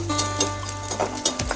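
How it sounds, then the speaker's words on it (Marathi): Edible gum (dink) frying in a pan for ladoos, giving a soft, steady sizzle over a low hum, with light stirring scrapes and clicks breaking in at irregular moments. "छान गुलाबी रंग येईपर्यंत छान तळून घ्यायचं आहे"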